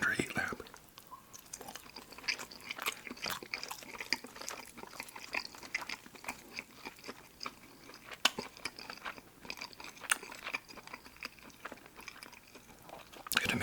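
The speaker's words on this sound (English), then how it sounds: "But that crunch and the flavor, and the chicken's always moist" Crunchy fried chicken from Lee's Famous Recipe being bitten and chewed close to the mic, with repeated crisp crunches and mouth sounds in an irregular rhythm beneath soft whispering.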